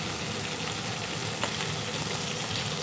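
Chuck roast sears in a hot pan with a steady, moderately loud sizzling hiss that holds evenly, with one faint tap partway through.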